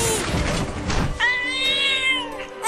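A cartoon cat meows in a drawn-out, wavering cry after a burst of noisy clatter, loud and close, with no talk over it.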